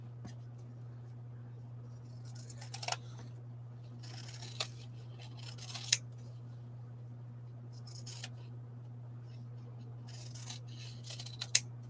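Scissors snip through small pieces of paper in several short, separate cuts, close and crisp over a steady low electrical hum in a quiet room.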